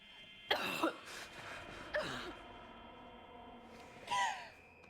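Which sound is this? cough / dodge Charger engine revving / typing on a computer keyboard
cough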